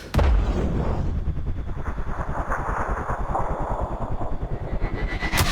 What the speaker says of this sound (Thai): แล้วก็ขอยิงที่หัวหน่อยครับ